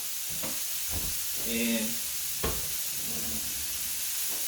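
Chopped onion and one capsicum sizzle and hiss in a hot pan for shakshuka, with a few scraping stirs and clatters over the steady frying.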